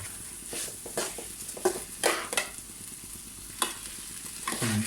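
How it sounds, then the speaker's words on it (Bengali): Bhuna khichuri stirred in a cooking pot, soft frying sizzle under irregular scraping strokes of a spoon against the pot base, close and unaccompanied by talk. "এভাবে কিছুক্ষণ নাড়বেন, এভাবে কিছুক্ষণ নাড়তে থাকবেন যেন জিনিসটা আপনার পাতিলের মানে নিচে যেন তলার যেন না বাজবে।"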